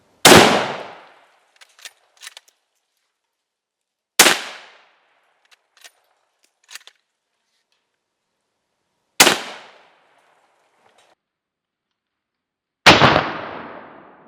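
Four loud, sharp rifle shots from a Savage Trophy Hunter XP chambered in .308, fired outdoors several seconds apart, each with a booming report that rolls off into a fading echo.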